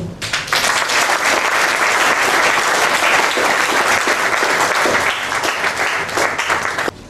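Sustained applause from a seated audience at a formal municipal ceremony, continuous and fairly loud, with dense clapping lasting throughout and no talking on top.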